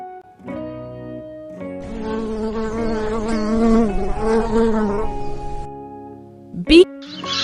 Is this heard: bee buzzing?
yes